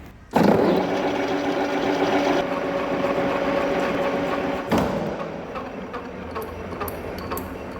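A Kitchen & Walker horizontal facing and boring machine starts up with a thump and spins its faceplate at 216 RPM, giving a steady, loud mechanical whir and hum. A second knock comes midway, then the running drone continues.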